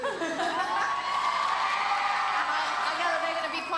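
A television game show studio crowd cheers and whoops in a steady, loud wash of voices, with shrill whoops rising above it throughout.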